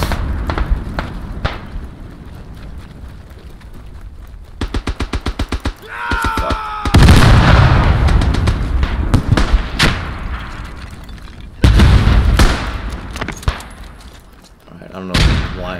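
Heavy artillery shells burst around a soldier in a WW1 shooter on a 1916 battlefield map, deep booms mixed with rifle and machine-gun fire, loud and close, with some voices talking in between.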